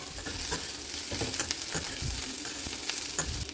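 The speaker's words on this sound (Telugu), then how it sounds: "ముక్కలు ఇలా ఎర్రగా అయ్యే వరకు వేగించాలి." Pieces of ivy gourd (tindora) frying in a pan make a steady, close sizzle, with scraping stirs breaking through at intervals and no talking.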